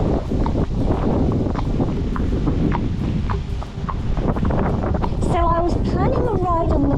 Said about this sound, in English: It's strong winds today, by the way,